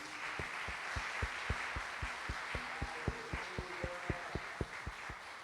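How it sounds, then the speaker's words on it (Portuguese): A church congregation claps along in steady rhythm, regular hand claps about twice a second under a sustained wash of applause and cheering, while a low hum of music sits beneath. "podemos aplaudir bem forte a Jesus"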